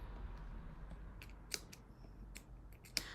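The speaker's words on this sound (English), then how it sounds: "I'm just going to snip into the gusset" Scissors snip into the gusset of a fabric bag, a few faint, crisp clicks spaced apart over a quiet, hushed background.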